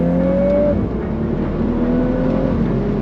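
A Mercedes-AMG A45 S or Volkswagen Golf R hot hatch engine rises in pitch at full throttle, a strained revving whine heard continuously over road and wind noise.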